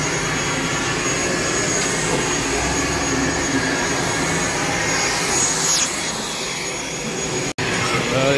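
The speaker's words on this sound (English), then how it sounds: "And you can hear the engine sound already." The engine of a Trigana Air airplane runs on the airport apron, a steady, loud roar and whine that fills the whole scene without letting up.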